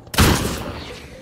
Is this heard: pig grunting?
no